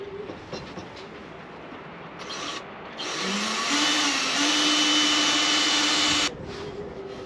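A power drill bores a pilot hole during an instrument upgrade, its motor whining up to a steady, close, fairly loud drone for about three seconds before cutting off, with quieter handling noise before it.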